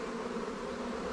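Honeybees hum around an opened hive in spring, a faint, steady, close buzzing drone with no voices over it.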